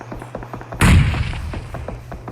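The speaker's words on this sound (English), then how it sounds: "The squad above us is throwing nades at us." Gunfire and a thrown grenade blast during a PUBG match on the Miramar map: repeated sharp shots ring out, then one loud close explosion bursts and decays while scattered shots continue.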